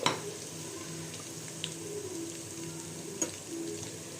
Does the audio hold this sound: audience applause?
no